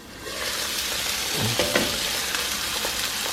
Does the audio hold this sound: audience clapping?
no